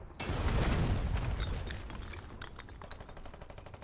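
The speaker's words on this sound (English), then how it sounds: "We're taking some mortar hits." Mortar hits and gunfire in a tank war video game, a heavy rumbling impact up front followed by rattling bursts of rapid gunfire fading into lighter, steady clicks and pops.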